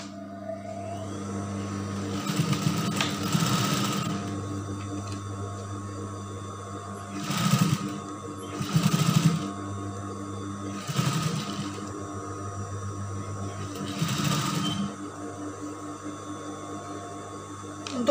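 A sewing machine stitches skirt fabric in several short motor bursts of a second or two, separated by pauses filled with a low steady hum, heard close by.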